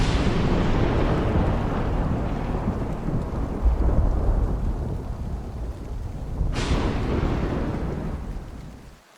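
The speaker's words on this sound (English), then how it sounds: "I love the sound of thunder." Heavy rain pours steadily while deep thunder rumbles and rolls throughout, with a sharper crack near the end, a loud, close thunderstorm with no voices.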